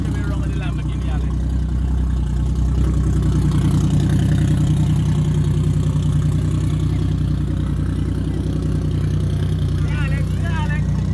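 A Lamborghini's engine runs at a steady idle, a low rumble that holds throughout while people talk over it nearby.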